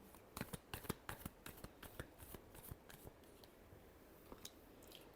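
Tarot cards shuffled by hand in a run of quick, crisp riffling bursts with soft flicks, close and fairly quiet, easing to a sparse pause near the end.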